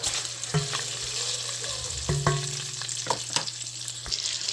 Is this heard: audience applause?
no